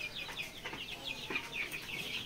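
A red deshi rooster clucks in short repeated calls at a poultry sale, faint and close, over a low background murmur.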